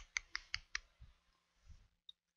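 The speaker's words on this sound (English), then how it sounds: "All I'm hearing is the Minecraft, the clicking of the blocks" Blocks click in the Minecraft video game, four quick, sharp taps in a row followed by a few duller knocks and a last tiny click, close and fairly quiet, with no talking.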